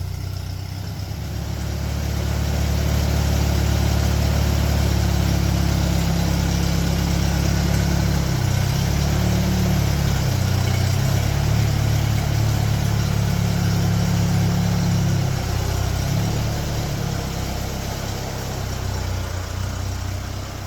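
An old $300 auction tractor engine idles steadily for the whole stretch, a loud, low, throbbing rumble that stays close and even, with no talking over it.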